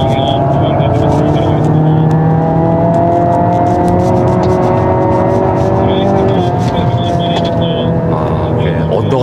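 A 2022 Hyundai Elantra N held at full throttle through a long hairpin at Inje circuit roars loudly from inside the car, its engine note climbing in pitch and holding a strained, steady drone.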